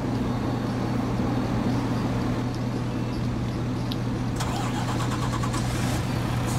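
A Tatra Phoenix truck engine in Farming Simulator 19 cranks and fires up, then settles into a steady, loud, low diesel idle with no talking.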